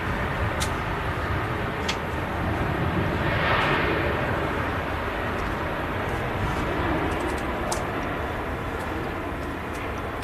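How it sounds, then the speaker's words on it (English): A Boeing 737-800 airliner passes at Manchester Airport in the evening as a steady, broad engine roar that swells around the middle and holds fairly loud for the whole stretch. "There goes the Series 737 800."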